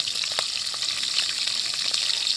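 Green chillies and a bay leaf sizzling in hot oil, a loud, crackling fry that runs without a break close to the pan, with faint ticks of stirring and no talking.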